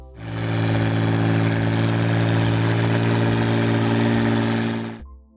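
A John Deere 4020 diesel tractor engine runs loud and steady at a constant idle-like drone for several seconds, then cuts off abruptly.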